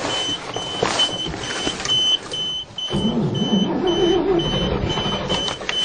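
A 427 gas Chevy dump truck sounds its warning beeper in a steady string of evenly spaced high beeps over a low running engine rumble.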